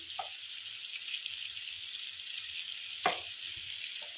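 Brinjal and onion masala fries in a pan with a steady, soft sizzle. Two brief scraping stirs cut through it, and no one speaks.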